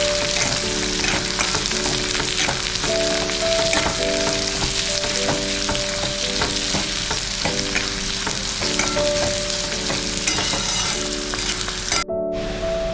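Chopped onions fry and sizzle in a pan for Punjabi rajma masala gravy, a steady hiss running throughout with repeated stirring scrapes and clinks, ending abruptly near the end.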